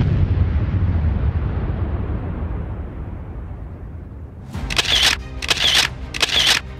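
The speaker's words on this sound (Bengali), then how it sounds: "রাত দিন কানে শুধু বিস্ফোরণের আওয়াজ" Quarry blasting near Dangapara village in Barjora block, Bankura: a deep rumbling boom decays over several seconds, then three sharp, loud bursts follow in quick succession, close and forceful.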